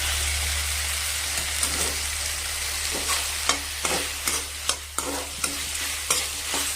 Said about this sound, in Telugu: ఇక్కడ మొత్తం కలిపేసుకుందాం